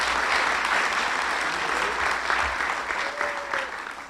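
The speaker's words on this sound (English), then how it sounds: "Another huge round of applause for her" A crowd at a Town of Miami Lakes awards ceremony gives a long round of applause for a community volunteer, steady and full throughout, easing slightly toward the end.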